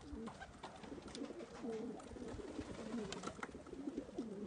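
Painted pigeons cooing steadily, several overlapping calls close by, with light rustle and wing movement as the birds fly up and land again around a feeding spot.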